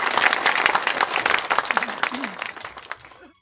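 Crowd applause rings out at a village ceremony honouring a woman in India, a dense, lively round of many hands clapping that thins out and fades to silence after about three seconds.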